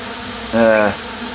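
A single honeybee buzzes briefly and close by in a short rising and falling burst, with quiet hive background before and after.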